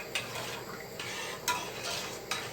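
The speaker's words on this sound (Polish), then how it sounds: "Jeszcze zamieszam." A utensil scrapes and clinks against a pot in several stirring strokes, over a steady background hiss of cooking.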